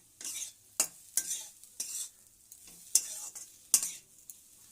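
Leftover rice is tipped into a frying pan and stirred. Bursts of loud scraping and sizzling come in uneven strokes, separated by quieter gaps, close at hand.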